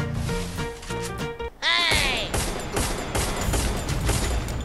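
Video game gunfire rattles in a dense, loud burst of rapid shots, then a sharp crash with a ringing metallic tail, with the firing continuing underneath, close and busy with no talk.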